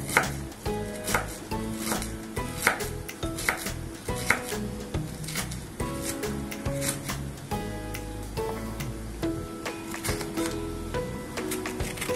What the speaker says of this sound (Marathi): असं बारीक बारीक चिरून घ्या